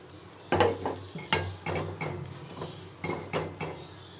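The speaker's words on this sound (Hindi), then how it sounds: "अब एग जो मैंने बीट कर लिए हैं वो ऐड करूँगी और मिक्स करेंगे" A spoon scrapes and clinks in a pan as beaten eggs are mixed into a homemade Shab-e-Barat dish, with about eight irregular stirring knocks, fairly close and with no talk over them.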